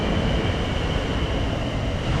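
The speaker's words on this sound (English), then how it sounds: "It'll keep you going. Train." A train passing on the London to Portsmouth railway line in Hampshire gives a continuous, fairly loud rumbling roar with a steady whine above it, heard alone for a couple of seconds.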